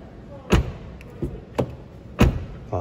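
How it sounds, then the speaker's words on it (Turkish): Car doors on a 2020 Citroen C3 Shine hatchback are shut by hand, a handful of solid thuds spaced about a second apart, close by and alone without talk. "Size bir de kapı sesini dinleteyim arkadaşlar."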